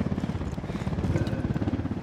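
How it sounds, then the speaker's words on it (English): Steady rhythmic thumping of helicopter rotors in a video game, a low pulsing drone that stays loud and constant throughout. "Helicopter, get down."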